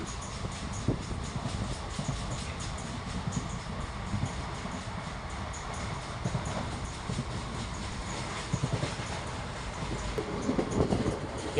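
A train rumbles steadily along the rails past Tirunavaya railway station in Kerala, with a continuous roar and faint rhythmic clatter, fairly loud and close, no voices.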